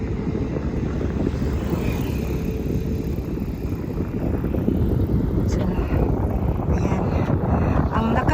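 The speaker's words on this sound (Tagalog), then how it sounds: "Kaya ng hangin dito guys" Strong wind blows by clear water, a loud steady rush with heavy microphone buffeting throughout.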